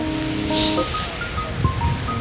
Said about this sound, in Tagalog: So, ayan guys, humahangin na. Humahangin na siya.